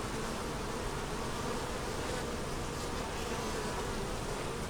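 Honey bees buzz densely around a new unmarked queen on the comb, forming a loud, continuous swarm drone with no pauses.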